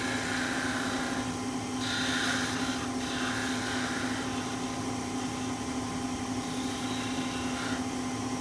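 A wood lathe spins steadily as a lace bobbin is pared down, a constant motor hum with faint, intermittent higher shaving hisses from the tool on the wood.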